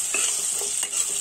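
A spoon stirs tomato and vegetables in a sambar pot, giving a few soft scraping strokes over a faint, constant sizzle.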